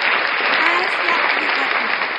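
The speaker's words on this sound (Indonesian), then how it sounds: "Tepuk tangan dulu untuk kita semuanya" An audience breaks into dense, even applause, a loud continuous patter of many hands clapping throughout the short stretch.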